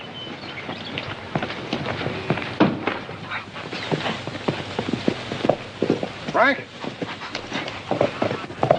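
Horse hooves clip-clop steadily at close range on a trail in a 1946 western scene, a loose trotting rhythm under a voice calling out.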